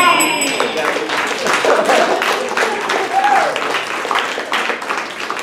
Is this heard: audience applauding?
yes